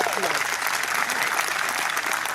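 Steady applause from a golf tournament gallery at Muirfield, dense and continuous throughout, with a commentator's voice talking over it.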